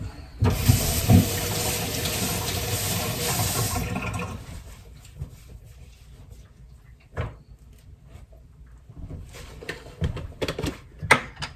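Tap water runs steadily into a sink for a few seconds of hand washing, then stops, followed by quiet kitchen handling noises and a couple of knocks.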